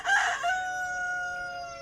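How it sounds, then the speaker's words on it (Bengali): A rooster crows once at dawn as a sound effect in a Bengali audio story, loud and close, its drawn-out call trailing off in a long sustained tone. "ভোরের আকাশে প্রথম পাখির ডাক শোনা গেল।"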